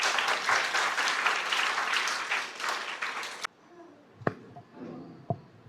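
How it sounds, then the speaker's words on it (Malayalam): An audience at an event for students with disabilities claps warmly, a dense round of applause that cuts off abruptly partway through, followed by near quiet with a couple of sharp isolated knocks and faint voices. "അതിനൊരു കൈയടിക്കാം നമുക്ക്."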